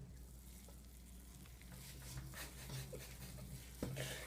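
Thick oatmeal cookie dough packed with oats is stirred by hand in a bowl, giving a soft, faint scraping and squelching texture with an occasional knock of the utensil against the bowl.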